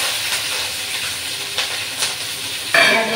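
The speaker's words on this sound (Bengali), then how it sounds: "পেঁয়াজ বাটা রসুন বাটাটা ভালো করে ওর মধ্যে দিলাম। এটা ভালো করে ভাজা ভাজা হোক।" Onion and garlic paste frying in hot oil in a Bengali home kitchen, a steady close hiss of sizzling with occasional louder spatters and a sharper burst near the end, no talking.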